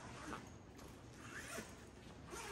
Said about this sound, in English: And it zips all the way around so that it expands the bag to 3 or 4 inches deep.